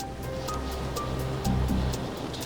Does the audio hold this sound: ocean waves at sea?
yes